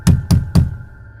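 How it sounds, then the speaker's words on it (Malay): Three firm knocks on a bedroom door in late-night stillness, evenly spaced and close, each a solid thud, followed by quiet. "dengar ada orang yang gendang pintu bilik dia ni"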